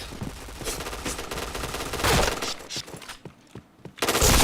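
Bursts of automatic gunfire from a first-person shooter video game, loud and rapid with short pauses between volleys, ending in a heavy final burst.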